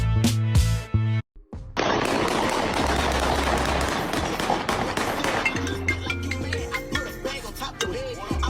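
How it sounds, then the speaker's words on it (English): People shoot guns outdoors in a rapid string of loud, sharp cracks that pop in quick succession and keep going for several seconds. "They out there shooting."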